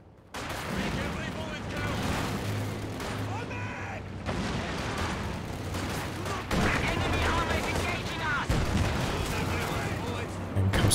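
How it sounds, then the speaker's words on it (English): In a strategy video game, a T-70 tank fires repeated shots into a building while infantry gunfire and explosions crackle densely throughout, with a commentator talking over the battle. "T-70 missing, just shot after shot connecting with the building"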